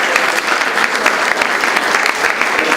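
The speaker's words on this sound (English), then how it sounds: "A big round of applause for our" A loud, dense burst of audience applause fills the room at a stage hypnosis show, sustained and even throughout with no talk over it.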